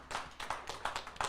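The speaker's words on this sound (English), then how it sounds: "Give yourself a round of applause." Several sharp hand claps in an uneven rhythm, close and moderately loud, sounding more like a small group clapping than a full crowd.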